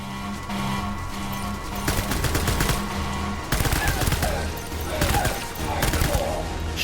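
Sustained bursts of rapid gunfire in Death Stranding roll on for several seconds, loud and dense over a steady musical drone.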